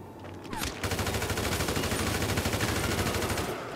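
Sustained rapid automatic gunfire in a video game, a dense steady rattle of shots starting after a brief pause and running continuously to the end, loud and close.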